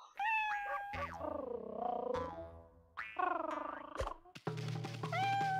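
A cat meowing in the video game Okami, several clear close-up meows with rising and falling pitch separated by brief pauses, heard alone.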